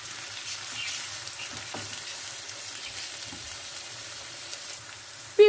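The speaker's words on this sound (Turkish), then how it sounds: "Biraz böyle salçanın kokusu çıkana kadar kavrulsun." Tomato paste frying in a pan, a low steady sizzle held faintly for several seconds with no talk, ending in a brief sharp knock.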